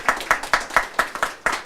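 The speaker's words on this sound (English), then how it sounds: "Give them a round of applause." Brisk, evenly spaced hand claps ring out close by, about four per second, like a small round of applause with no voices.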